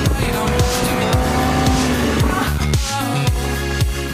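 A loud, high-revving 5.2-litre V10 LP 610 sports car engine of 610 horsepower climbing through repeated rising sweeps as it shifts gears, roaring close by with a brief tire squeal.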